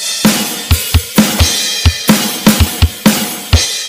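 A drum kit plays a steady beat at standard tempo, with kick, snare, hi-hat and crash sounding as evenly spaced, sharp, loud hits on their own.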